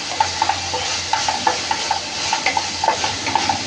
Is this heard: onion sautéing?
yes